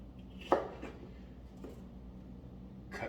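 Cutco knife slicing apples for an apple pie, with a few separate crisp cuts, one sharper chop near the start and softer ones later, spaced out and quiet against a low room hum.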